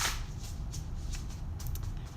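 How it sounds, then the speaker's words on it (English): A deck of playing cards is shuffled by hand at close range, a steady soft papery rustle with faint riffling bursts running for about two seconds, with no talking. "So I'm just shuffling the deck here, and then I'm gonna pull some cards for you"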